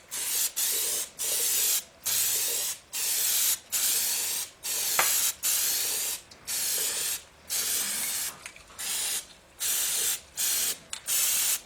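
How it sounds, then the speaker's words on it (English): Developer sprays from a shaken aerosol can onto the combustion chambers of a Willys CJ3B F-head engine in a series of loud hissing bursts of roughly a second each, separated by short pauses, up close. "we're going to spray the developer on there."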